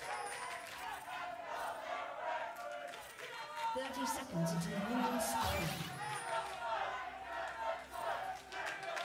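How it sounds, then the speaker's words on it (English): A rowdy crowd of fans roars and shouts at a League of Legends LCS esports match between Team Liquid and TSM, loud and surging, while an in-game announcer voice speaks over it. "It's a rowdy crowd."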